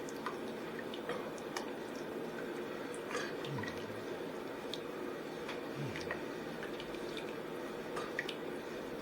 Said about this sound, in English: Now let me put the last of my bouillon in there